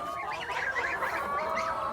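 Chickens at a water trough in a backyard coop give a continuous, close run of clucks and throaty calls for about two seconds with no talk over them.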